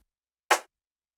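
A snare drum sample layered with a rim shot in a bedroom R&B beat lands as one short, crisp, bright hit, alone and fairly quiet, with a quick decay.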